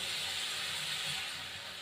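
Water hits a hot pan of spices with bay leaf and cumin for a rohu fish and cauliflower curry, giving a loud, steady steam hiss that fades slightly over two seconds.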